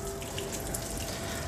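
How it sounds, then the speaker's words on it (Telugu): Water runs steadily through an air cooler just after its pump motor is switched on, a close, even trickling and splashing with no pauses across the short moment. "ఓకే, వాటర్ వస్తుంది, మీరు ఇక్కడ గమనించవచ్చు,"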